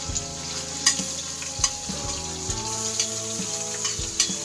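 Tomato, onion and garlic sautéing with shrimp in a pan give a loud, continuous sizzle with periodic stirring scrapes and a few sharp clinks of the spatula.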